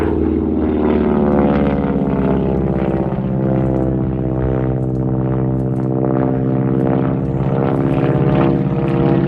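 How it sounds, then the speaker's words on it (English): Propeller airplane at a World War 2 weekend air show performing an 8-point roll, a loud, steady droning engine with a rich harmonic buzz that swells and eases slightly as it passes. "I'm going to let you listen to the sound of the engine this time."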